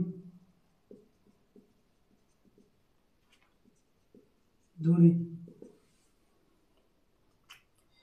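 Faint, scattered scratching strokes of writing out a proof on a cyclic group theorem from abstract algebra, with a short burst of voice partway through and quiet gaps between strokes.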